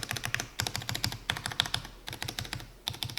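Rapid keystrokes on a mechanical keyboard in a thin aluminum case with unmodded stabilizers, close and crisp, with slightly scratchy clacks in quick uneven bursts and brief pauses, no voices.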